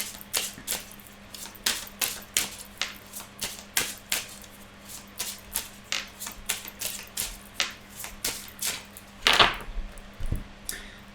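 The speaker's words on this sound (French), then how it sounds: "on va tirer 3 cartes" Oracle cards drawn one after another from a deck during a reading: a long run of crisp, light taps and flicks at a fairly even pace, close and quiet, with a slightly louder shuffle near the end.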